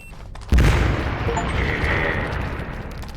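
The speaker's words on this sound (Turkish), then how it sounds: "Şimdi bir delik açmak için patlayıcıları kullanmak için X tuşuna bas." A loud in-game explosive blast goes off abruptly, blowing a hole in a wall in an abandoned-facility exploration game, with a heavy boom followed by a long rumbling, debris-filled decay and no talk.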